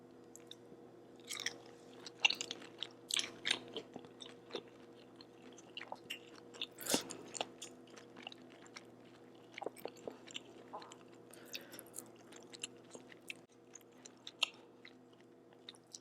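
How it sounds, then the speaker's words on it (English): Close-up chewing and biting of Cajun shrimp from a seafood boil, with wet squishy mouth sounds and scattered crunchy bites over about sixteen seconds, quiet and intimate with no talk. "Take a bite of this shrimp first."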